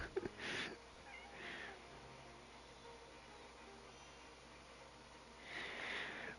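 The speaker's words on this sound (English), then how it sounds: "When she meows, I'll tell her to shut up if she's annoying" A cat gives a couple of faint meows, one at the start and another near the end, with quiet room noise between them.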